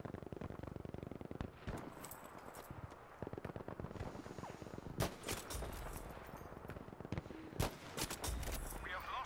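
Gunfire in Battlefield V on the Mercury map, scattered sharp shots and short bursts at varying distances, fairly faint overall, with talking in between.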